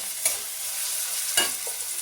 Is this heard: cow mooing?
no